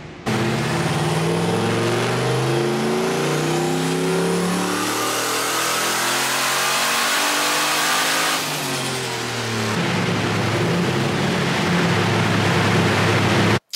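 An LSX-swapped Mustang with a big single turbo runs on a hub dyno, its engine roaring loudly and climbing steadily in pitch through a long pull, then dropping back and revving again, with no talk over it.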